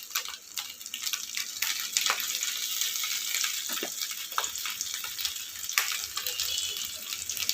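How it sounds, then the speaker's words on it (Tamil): Green chillies frying in hot coconut oil in a pan: a close, steady sizzling hiss scattered with sharp little crackles and pops that continue throughout. "தேங்காய் எண்ணெய் ஊற்றி தேங்காய் எண்ணெய் சூடானோடனே இது போட்டுட்டு, இப்போ நம்ம காரத்துக்கு முதல்ல பச்சை மிளகாய் போட்டிருக்கோம்"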